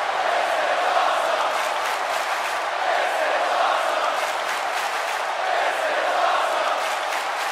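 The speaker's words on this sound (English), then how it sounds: "The crowd is buzzing." A large arena crowd at WWE WrestleMania 33 buzzes with a steady, dense roar of voices and cheering that holds constant throughout, loud and unbroken, with no single voice standing out.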